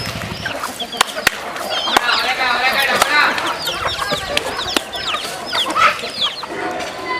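Several native country chickens cluck and chatter close by, with a few sharp knocks and clicks scattered through the busy flock noise.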